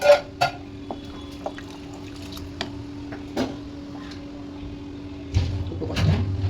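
Water poured into a pot of soaked rice during home cooking, a steady liquid pour with a few clinks at the start and a louder splashing surge near the end, fairly quiet and without talking.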